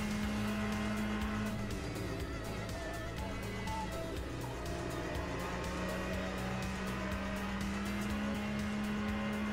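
Race cars in the Le Mans Ultimate sim racing game, with a Corvette and a Ferrari in an online race, drone steadily with a sustained engine tone and passing noise, loud and continuous throughout.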